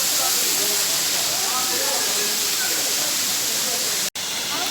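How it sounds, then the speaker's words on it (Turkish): The Çiseli waterfall in Ordu rushes with a loud, dense, continuous roar of falling water, heard up close and steady throughout with one brief dropout near the end. "Şelalemiz gürül gürül akıyor maşallah."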